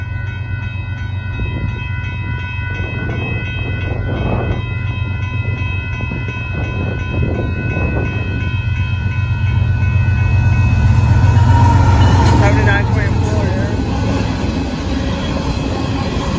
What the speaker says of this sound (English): Looks like a grain train to me here.